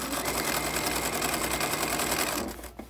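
Sewing machine stitching pillowcase fabric, a rapid steady mechanical whir with fast even needle pulses close by, stopping abruptly near the end.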